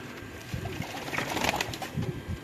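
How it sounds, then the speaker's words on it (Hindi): Sialkoti pigeons in a Lahore loft give low, soft cooing phrases that rise and fall over steady background noise. The birds are moderately close and no one speaks. "ये सियालकोटी कबूतर हैं"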